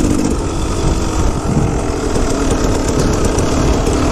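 KTM 250 EXC motorcycle engine running at low speed, a dense steady rumble with rough low-end texture and wind noise, loud and close, no voices.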